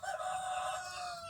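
Chickens in a coop, a white hen among a young flock including Easter Eggers, crowing and clucking steadily for a moment, a continuous close fowl chorus with no talking.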